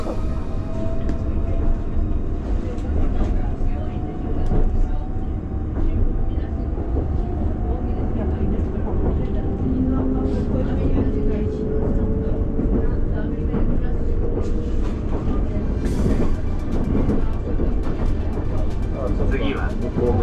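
An Ise-Shima Liner train runs steadily as heard from a salon seat, giving a constant low rumble and rail hum with a faint rising tone, while someone talks over it throughout.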